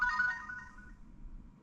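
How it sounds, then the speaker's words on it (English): Mobile phone ringtone, a bright electronic melody of short chiming notes at fair volume, fading out after about half a second and leaving a quiet low background. "Might be my phone."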